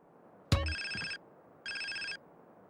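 A phone in the video game GTA San Andreas rings in two bright electronic trills after a sharp click, clear and close, with quiet gaps between them.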